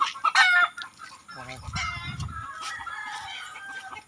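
Chickens, including gamefowl, cluck and a rooster crows nearby during feeding on damp ground, with overlapping calls from several birds.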